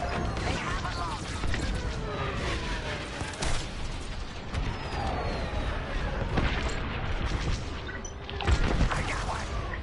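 Starfighter taking fire in Star Wars Squadrons: dense bursts of laser blasts, impacts and explosions hammer away over a constant roar of combat, with a few sharper booms standing out near the end.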